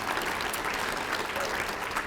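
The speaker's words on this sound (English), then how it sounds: "So a round of applause for you all and everyone that helped make this happen." An audience at a community meeting on climate resilience applauds in a brief, dense burst of many hands clapping, moderately loud and steady for about two seconds.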